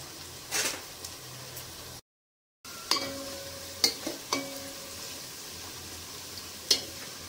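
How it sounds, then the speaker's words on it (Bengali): Onions frying in a pan for aloo biryani, a steady close sizzle with a few sharp clicks of stirring against the pan and a brief silent gap partway through. "পেঁয়াজটা এইরকম ভাজা হবে"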